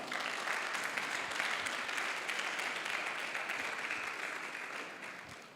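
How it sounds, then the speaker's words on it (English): Steady audience clapping at a leadership summit, a dense crowd of hands applauding at moderate distance that gradually fades toward the end. "I thought that deserves some clap."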